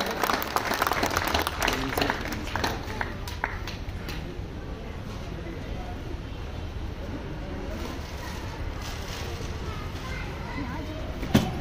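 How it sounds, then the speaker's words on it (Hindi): Audience at an event honouring war widows and gallantry award recipients breaks into applause for an honoree, strong clapping at first that thins into a quieter, noisy crowd murmur. "जोरदार तालियों से इनका स्वागत।"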